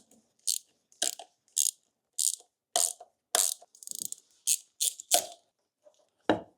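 A ratchet undoes bolts on a Kawasaki GPZ900R motorcycle engine in a workshop: about a dozen short, close bursts of crisp clicking, separated by brief pauses, with no talking.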